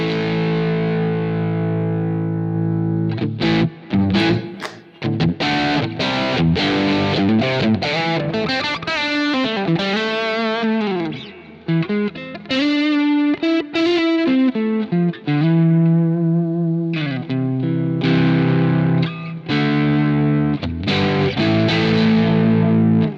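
A distorted electric guitar plays through a Quad Cortex capture with gain lowered slightly, mixing chords and single-note runs with brief pauses, loud and saturated with no voices.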